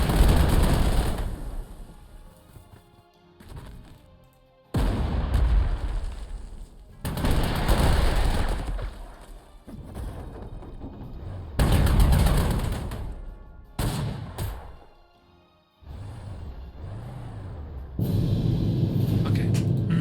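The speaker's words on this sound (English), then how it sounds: "There's also artillery over there." Artillery fire in the wartime strategy game Panzer Corps 2 comes as loud booming blasts and rumbling barrages, separated by sudden cuts and brief quieter gaps, with no talking over it.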